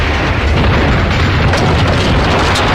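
A big fiery explosion in the video game Max Payne, a loud, sustained roaring boom with dense rumbling that fills the whole stretch without letup.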